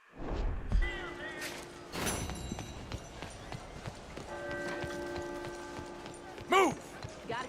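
Horse hooves galloping in Red Dead Redemption 2, quiet irregular thuds of hoofbeats under a character's voice, soft ambient game sounds and a brief louder whinny-like tone near the end.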